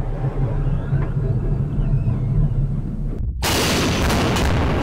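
Artillery gun firing live rounds in desert gobi terrain during a day-night exercise: a steady low rumble, then around three seconds a sudden loud, broadband blast after a brief gap that stays full and roaring to the end.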